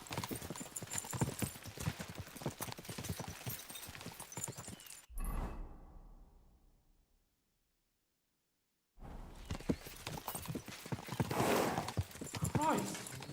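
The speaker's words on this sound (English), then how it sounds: "We should spur the horses on." Horses galloping in the medieval video game Kingdom Come: Deliverance 2, rapid hooves clip-clopping loudly with a whinny, cutting out to silence midway before the galloping resumes.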